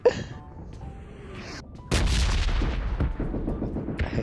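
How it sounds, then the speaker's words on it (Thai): A sharp, heavy gunshot in PUBG Mobile bursts out midway, followed by a rumbling, decaying echo; a faint click and brief whoosh come before it. "เสียงปืนใครวะ"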